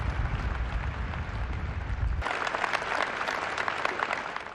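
A huge crowd of more than 200,000 people gives a loud, sustained ovation in St. Peter's Square at the Vatican, a dense roar of clapping that brightens and swells midway as a low rumble drops away.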